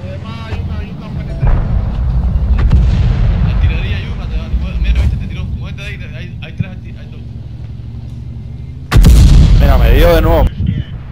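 Heavy artillery shell blasts slam into a tank in World of Tanks, with rumbling engine noise and one especially loud impact near the end, while players talk over the action.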